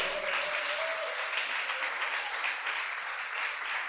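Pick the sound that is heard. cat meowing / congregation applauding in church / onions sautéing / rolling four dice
congregation applauding in church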